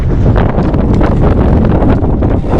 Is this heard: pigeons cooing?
no